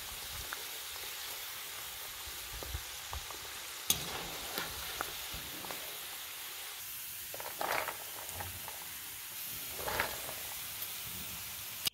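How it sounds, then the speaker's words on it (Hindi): Cashews, pistachios and almonds fry in ghee in a pan while making carrot halwa, giving a soft, steady sizzle with occasional faint clinks and scrapes of stirring and no talk. "काजू पिस्ता बादाम जो हैं भुन गए हैं। तो अब हम इन्हें घी से निकाल लेंगे।"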